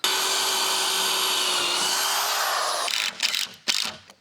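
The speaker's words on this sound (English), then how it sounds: "Pre-drilling it is." A power drill pre-drills wooden decking on a steel trailer frame, a sustained high whine with a slight pitch dip before the bit stops, followed by a couple of short rattling bursts.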